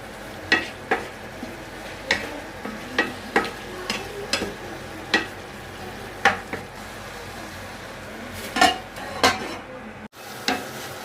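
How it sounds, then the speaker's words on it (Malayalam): A spoon scrapes and stirs tomato chutney with salt in a pan, sounding as a dozen or so separate clinks and scrapes spread across the stretch over a low sizzle, then a sudden cut to quiet near the end. "ഇനി ഇതിലേക്ക് ആവശ്യത്തിന് ഉപ്പൊന്ന് ചേർത്ത് കൊടുത്തിട്ട് നല്ലപോലെ ഒന്ന് ഇളക്കി കൊണ്ട് കൊടുക്കാം"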